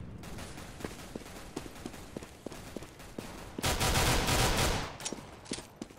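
Rapid gunfire from the game Counter-Strike: Global Offensive, with repeated sharp single shots, then a sustained loud burst of automatic fire that breaks off into a few more scattered shots.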